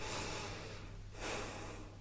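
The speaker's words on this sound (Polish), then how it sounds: "Najpierw kilka głębokich wdechów, wydechów, wszystko nosem robisz." Slow, deep breaths drawn through the nose, a long airy inhale followed by a pause and another breath, close and steady with no talking.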